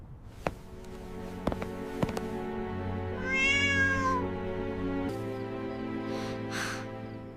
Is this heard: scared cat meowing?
yes